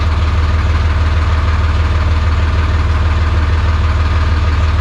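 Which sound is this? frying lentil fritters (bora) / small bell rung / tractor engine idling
tractor engine idling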